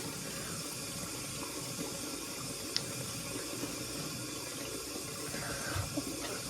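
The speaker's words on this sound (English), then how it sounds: "Just wet my hands a little bit." Water runs steadily from a bathroom sink tap as hands are wetted, a faint, even hiss and trickle that stays constant throughout, with no talking.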